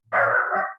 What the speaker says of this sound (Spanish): perdón mi perro